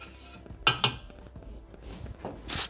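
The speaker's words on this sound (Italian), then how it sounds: "Riuniamo sul fondo del boccale con la spatola." A spatula scrapes around the metal mixing bowl of a Thermomix (Bimby) TM6, giving a few short, clinking scrapes, two close together early on and a softer pair near the end.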